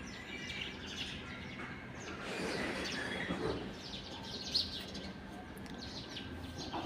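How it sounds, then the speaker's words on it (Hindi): Sparrows and pigeons in Delhi, a dense chorus of small chirps and tweets with occasional soft coos, steady and moderately faint across a busy outdoor background. "काफ़ी टाइम बाद में मैं आवाज़ सुन रही हूँ। वरना मुझे तो ऐसा लगता था जैसे अब दिल्ली में चिड़िया कबूतर है ही नहीं।"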